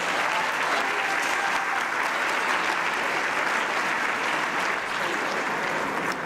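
Steady, full applause rolls through a homelessness conference keynote hall, many hands clapping together at even strength for about six seconds with a slight easing toward the end.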